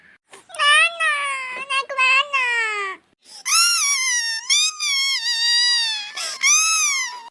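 A baby cries in loud, high, wailing bursts with short breaks between them, close by and heard alone.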